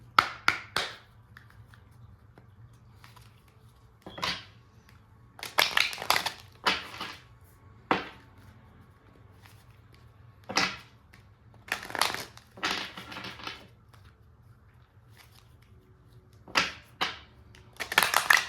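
Tarot cards shuffled by hand in bursts, crisp riffling and slapping sounds separated by quiet pauses, close and fairly soft with no talking.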